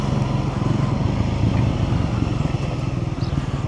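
A Triumph Scrambler 400X motorcycle engine runs with a steady, close, throbbing mutter at a constant pace, with no talking over it.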